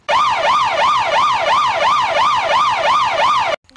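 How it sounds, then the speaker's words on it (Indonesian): An ambulance siren in a convoy of ambulances wails loudly and close in rapid, regular rising and falling cycles for more than three seconds, then cuts off abruptly, with no talking. "Dari kejauhan, terdengar suara iring-iringan 54 ambulan"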